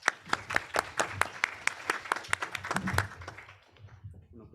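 Audience at a public security lecture series clapping loudly together, a dense burst of sharp claps that tapers off after about three seconds into murmuring.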